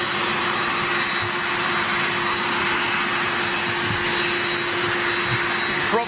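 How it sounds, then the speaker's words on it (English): A Ryanair Boeing 737 jet at Manchester International produces a steady, loud engine roar that holds evenly throughout, with a constant whine riding over the broad rumble and no talk. "looks like we're going to wait for this next one, which is Ryanair 737."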